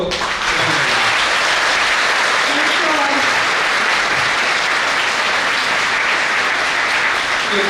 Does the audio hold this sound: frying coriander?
no